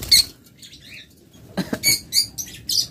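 Racing pigeons being handled flap their wings in short bursts, several quick fluttering flurries up close, with brief chirps between and quiet gaps.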